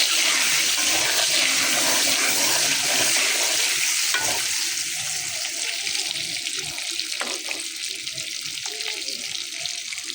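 Egg frying in hot oil with turmeric and salt gives a steady, fairly loud broadband sizzle through the whole stretch, easing slightly toward the end, with a few faint clinks and no voices.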